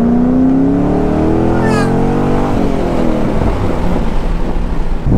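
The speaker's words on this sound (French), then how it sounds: "Et on finit cette vidéo avec ce bon gros V8." A Chevrolet Corvette's big V8 engine on a drive toward Montpellier during a supercar charity event, a loud steady low rumble with a rising rev early on, heard from close by inside or near the car.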